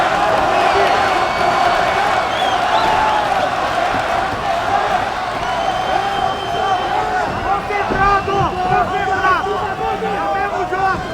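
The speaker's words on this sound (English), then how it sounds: "this crowd is cheering for Maia" A UFC arena crowd roars and cheers steadily through the whole stretch, a dense wash of voices under ringside commentary.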